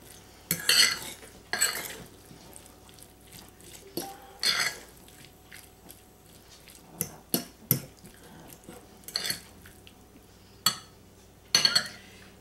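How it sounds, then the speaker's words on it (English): A utensil scrapes and clinks against a pan while breaking up pieces of corned beef and potato for hash patties, in scattered bursts of short metallic taps and scrapes with quiet gaps between, close by and with no talking. "sort of break up the little pieces of meat and the piece of potato"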